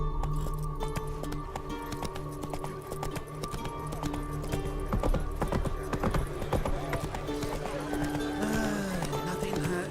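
A horse gallops in the video game Witcher 3, its hooves clip-clopping in a fast, steady rhythm throughout, close and prominent over a continuous game background.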